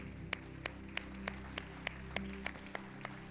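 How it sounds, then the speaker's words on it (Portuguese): Church congregation clapping in worship, a faint, steady rhythmic beat of sharp claps about three per second over a low sustained background tone. "Vamos aplaudir o Senhor, amado."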